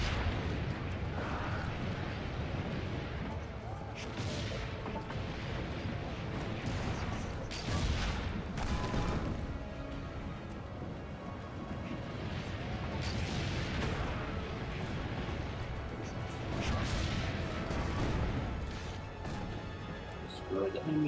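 Cannons fire in a battle in Assassin's Creed Brotherhood, with heavy booming blasts and rumbling impacts over a constant noisy din, while voices talk over the fighting.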